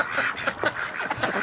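Several ducks quack outdoors in winter, a quick run of nasal calls overlapping close by over about a second and a half.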